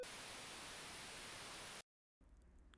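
Loud, steady hiss of broadband synthesizer noise, cutting off abruptly into silence, then fainter noisy sound returns.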